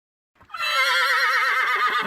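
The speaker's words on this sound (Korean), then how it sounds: "바깥에서 말 울음소리가 들려왔습니다" A horse neighs as a sound effect in a Korean folk tale narration: a loud, close, drawn-out whinny that begins after a brief silence and holds steady to the end, with no talk.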